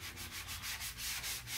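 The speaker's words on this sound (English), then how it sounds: "So I'm going to give this a quick sand." Light hand sanding of a grainy laminate furniture surface with 120 grit sandpaper between paint coats, heard as quick, rhythmic back-and-forth rubbing strokes, soft and close, with no voices.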